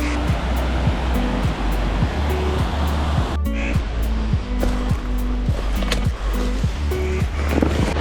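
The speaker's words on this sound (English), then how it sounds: "here's the water starting to flow for real" Mountain stream water rushing steadily on a trail on the way down from Gannett Peak in Wyoming, a constant broadband wash heard close, with some intermittent clicks and knocks over it.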